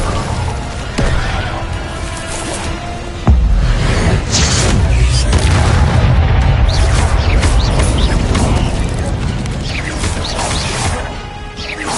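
An Incendio fire spell cast in Hogwarts Legacy bursts out as a dense, loud crashing roar with whooshing flame texture, swelling sharply a few seconds in and sustaining heavily until fading slightly at the end.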